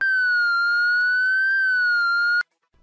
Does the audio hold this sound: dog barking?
no